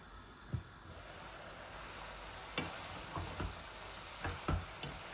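Shrimp and celery curry being stirred in a pan, with several soft scraping strokes of the spoon over a steady, faint sizzle and no voices.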